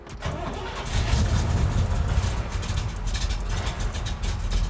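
A 1967 Chevelle with a 454ci V8 cranks and fires up, settling into a loud, rumbling idle with a rough, lumpy throb close by and no talking.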